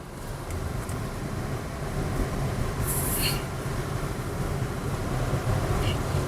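A 2022 Citroen C3 with about 71,000 km on it drives along the road, giving a steady, even rumble of engine and road noise heard from inside the car, with no talk.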